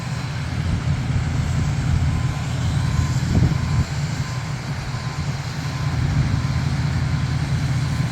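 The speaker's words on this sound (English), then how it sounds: "you'll see him backing up and moving forward slowly" Farm vehicle easing backward and forward slowly beside grain wagons at harvest during soybean combining, a steady low engine drone with a brief faint beep, heard from a distance without speech.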